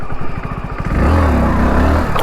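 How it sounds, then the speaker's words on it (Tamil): A Hero Splendor 2026 motorcycle engine chugs, then revs up sharply into a loud, close drone for a wheelie attempt. "சும்மா ஒரே ஒரு வாட்டி வீலி பண்ணி பார்ப்போமா?"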